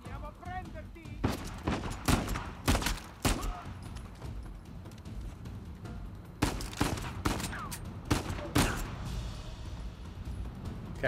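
Gunfire during a firefight in the action game Uncharted 4: A Thief's End: clusters of sharp shots from several directions, some close and loud, others fainter, with brief lulls between volleys.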